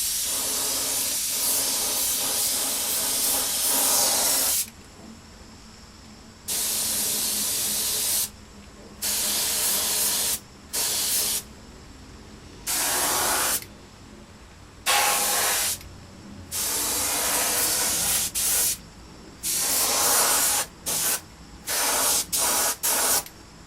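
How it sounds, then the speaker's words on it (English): Iwata airbrush spraying paint in a repeated series of loud close hissing bursts of varied length, some long and some very short, separated by brief quiet gaps, with no talking. "this is an IWATA airbrush"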